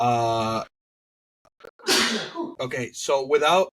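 A single sharp sneeze bursts out close to the microphone during a podcast conversation, framed by talking before and after.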